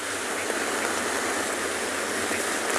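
Steady rain falls at a penguin beach, a constant soft hiss of drops with no breaks.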